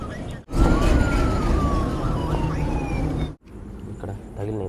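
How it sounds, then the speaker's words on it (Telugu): An ambulance siren wails on a busy roadside after an auto-rickshaw accident, its tone sliding slowly downward over dense traffic noise and a voice, then breaking off briefly before more street sound and talk. "అంబులెన్స్ వస్తుంది కదా"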